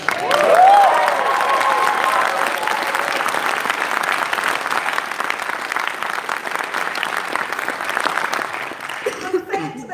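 A large audience at a Green Party AGM speech in 2019 applauds and cheers steadily throughout, with whoops and voices rising near the start, dense and loud, tapering toward the end.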